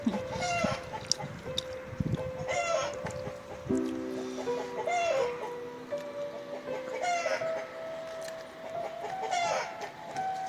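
A rooster crows repeatedly, with drawn-out calls every couple of seconds, mixed with nearby clucking from fowl on a farm. The calls are fairly close and clear over a quiet background.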